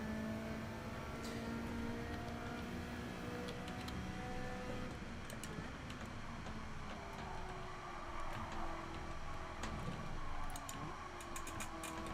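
Race car engine in Gran Turismo 7 during a weekly challenge race, a continuous droning engine note with shifting pitch, steady and fairly loud throughout, plus light ticking clicks.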